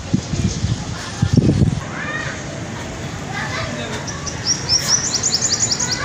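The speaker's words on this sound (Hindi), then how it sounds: "ये कितनी खूबसूरत ब्लैक चिड़िया है, वो सामने बैठी हुई है" A small black bird perched on a rooftop gives a quick run of high, bright chirps in the second half. Earlier there are louder bursts of voices and background noise.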